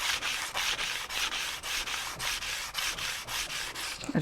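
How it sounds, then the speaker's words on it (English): Sandpaper rubs back and forth across wood in quick, even strokes, about three per second, close and fairly quiet with no voices. "I just wish I had like way coarser sandpaper"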